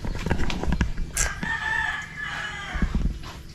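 Chickens on a farm raised on organic fertilizer crow and cluck, a rooster's call rising over scattered clucks and low rustling for a few seconds.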